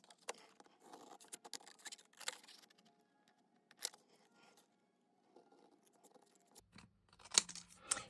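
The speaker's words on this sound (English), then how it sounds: "Using these fingers against the bottom blade of the scissors just to keep myself straight." Scissors cutting tissue paper, giving a series of crisp snips and soft rustles up close, irregular and spaced out, with quiet pauses and a few sharper clicks near the end.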